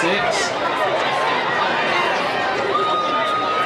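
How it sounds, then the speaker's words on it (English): Crowd applause and cheering at a Marlow high school football game, a dense, continuous roar of clapping and voices filling the stands, loud and sustained throughout. "you heard that's about the loudest applause Marlow's had all night so far"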